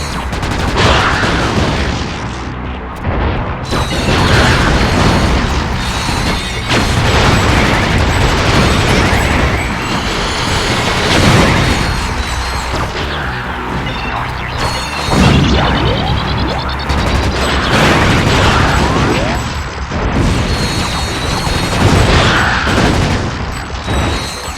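Loud, dense bursts of explosions and booms in the PS2 game Ratchet: Deadlocked, mixed with rapid gunfire and mechanical clatter, continue almost without pause throughout.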